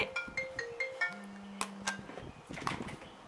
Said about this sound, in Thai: ทำวิดีโอทีไรก็จะมีโทรศัพท์เข้ามาทุกที